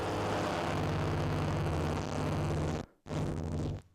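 A Neutral Labs Elmyra-2 synthesizer drones in a dense, roaring, noisy tone as its filter cutoff shifts, then cuts out sharply for a moment before coming back just as loud.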